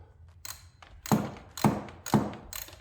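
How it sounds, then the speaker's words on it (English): A ratchet turns a 10mm socket on an extension to loosen a bolt beneath the cable track of a 2015–2016 Honda CR-V 2.4-liter engine, giving several evenly spaced, close, sharp clicking bursts about half a second apart. "what I have is my 10mm, have an extension, and I have a ratchet"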